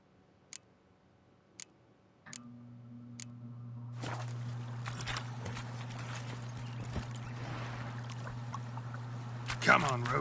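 Roach, the horse in The Witcher 3: Wild Hunt on PS5, walks with a few sparse hoof clops, then breaks into a steady, rapid clip-clop under a low droning hum and game ambience, near and continuous.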